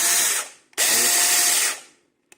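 An AOKBON cordless battery-powered 4-inch mini chainsaw whirs up loudly in two bursts, a short spin-up that winds down, then a longer high-pitched run that fades out, followed by a faint click.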